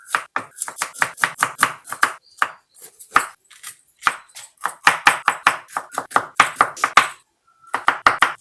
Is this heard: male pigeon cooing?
no